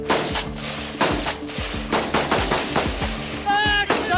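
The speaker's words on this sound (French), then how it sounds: "les gendarmes vont tirer à balles réelles" Gendarmes of the GIGN fire live rounds during a training exercise in French Guiana, with sharp heavy gunshots in quick bursts and echoing booms, close and loud, with a faint voice near the end.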